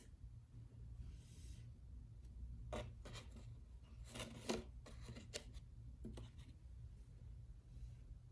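A label being handwritten during a cookie moon-phase activity, heard as faint scratchy strokes of a pen or pencil in short irregular bursts, quiet and close over a steady low hum, with no speech.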